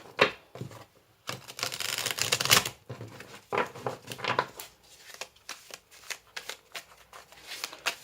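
Tarot cards being shuffled by hand in bursts of crisp riffling and flicking, with short pauses between rounds, close and fairly quiet with no talking.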